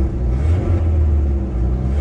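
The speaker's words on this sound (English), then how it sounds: "That's the AC compressor, not happy." A Jeep Wrangler's engine revs with a steady, loud low rumble while its AC compressor strains under load, a continuous close drone with no talk.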